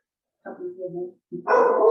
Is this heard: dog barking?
yes